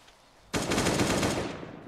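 A rapid burst of automatic gunfire from a gun in the survival video game Last Day on Earth: Survival starts abruptly after a quiet moment and continues as a dense, loud rattle of shots, without speech.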